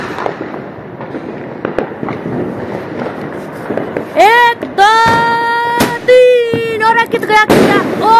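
Diwali firecrackers bursting during a family celebration: sharp nearby bangs and crackles, a whistling rocket-like tone rising over them, with children and adults talking and shouting throughout.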